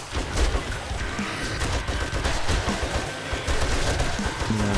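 Rapid automatic gunfire in the survival video game 7 Days to Die, a dense continuous barrage of shots, loud and sustained across the whole stretch.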